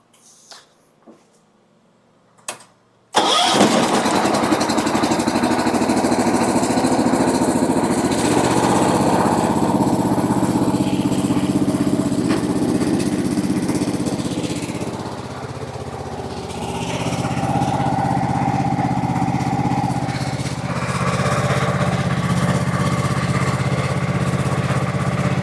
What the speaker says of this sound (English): we'll start up the tractor and raise it up a little bit.